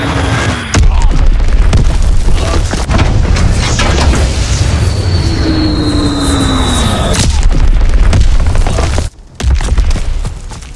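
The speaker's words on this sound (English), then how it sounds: "Enemy bomb incoming!" Enemy bomb blasts in the World War II shooter Call of Duty WWII, a dense, loud run of booming detonations and rumbling battle noise that continues almost without pause, with a brief drop near the end.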